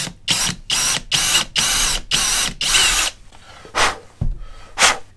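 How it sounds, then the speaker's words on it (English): A power drill whirs through a metal Harley-Davidson Milwaukee-Eight engine dipstick in a series of short, loud bursts, six in quick succession, then a pause and two more brief spins. "just drill that into there, drill a couple of holes"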